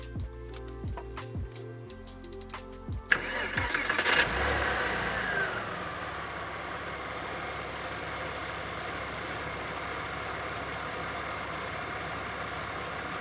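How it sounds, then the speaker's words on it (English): A Porsche Boxster engine cranks with a short burst of starter noise, then settles into a steady, even idle ticking along at close range, with no other voices. "Let's see how she sounds when we start her."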